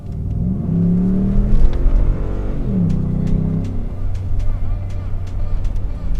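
A Ford F-150 with a 5.0L V8 in four-wheel drive spinning its wheels: a loud, droning engine rises and falls in pitch through two surges, with people talking over it.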